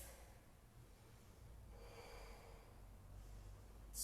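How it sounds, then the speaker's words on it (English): Steady breathing in a quiet room as someone holds a warrior two yoga stance, soft airy inhales and exhales close by with a brief louder rush of breath at the end. "And we'll breathe."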